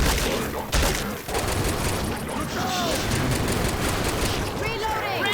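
Sustained, dense gunfire from weapons in Left 4 Dead: rapid overlapping shots and booms fill the whole stretch at steady loudness, with voices talking underneath.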